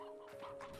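Chickens cluck in the video game Slime Rancher 2, a short run of soft clucks over a steady game tone.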